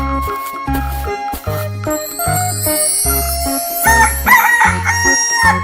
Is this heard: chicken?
yes